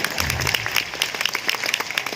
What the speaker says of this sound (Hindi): और बीसी सर के लिए भी एक बार जोरदार तालियां।